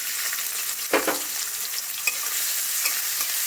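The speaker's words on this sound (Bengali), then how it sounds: "ওই তেলে আমি সব কিছু ফোড়ন দিয়ে ভেজে নিয়ে আবার পেঁয়াজগুলো ভেজে নেব" Onions frying in oil in a pan after whole spices are tempered, a steady close hiss with a few stirring scrapes and clinks, no talking.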